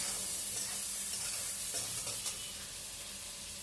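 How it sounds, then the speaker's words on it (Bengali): Ridge gourd frying with turmeric and salt, a steady close sizzle filling the pan with faint stirring scrapes throughout, no voices. "ঝিঙেটা আমি একটু ভালো করে ভেজে নেবো হলুদ নুন দিয়ে একটু ভালো করে ভেজে নেবো"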